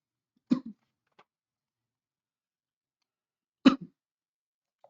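Two short, sharp coughs from one person, about three seconds apart, each a quick burst with a brief tail, set against near silence while working through an Algebra I Regents exam.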